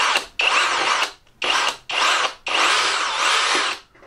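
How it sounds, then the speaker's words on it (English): A power drill whines in several bursts, drilling into a plasterboard ceiling, spinning up loud and close, pausing briefly between runs, then one long final stretch of drilling. "I'm going to drill an exploratory hole just to see what we've got up here"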